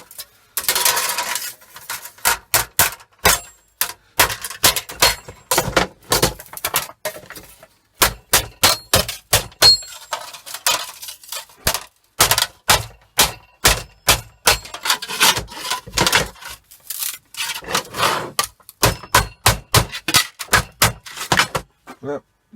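Irregular bursts of sharp metallic knocks and taps from hammering on a thick metal control panel plate, some single blows and some quick runs, close and separated by short quiet gaps.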